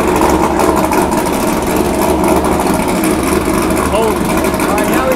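A modified Chevrolet Corvette Z06 V8 idles while warming up before a dyno run, a steady rumbling drone close by with people talking over it.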